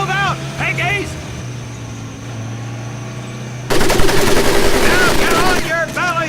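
Machine gun fire in the Medal of Honor Pacific Assault training course: a sustained, loud burst of rapid automatic shots erupts midway, following a stretch of engine hum with a shouting voice over it.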